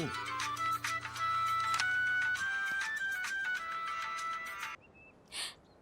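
A phone on speakerphone plays a loud, repeating electronic ringtone melody in bursts, then cuts off, followed by a short beep and a faint sound.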